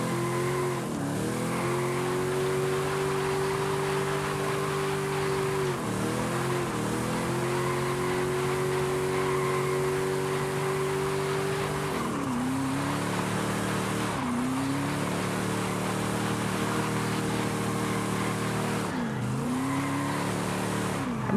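A Forza Horizon 5 video game car engine drones steadily, its pitch climbing and dropping with gear shifts and revs, with tire squeal in places, loud and continuous throughout.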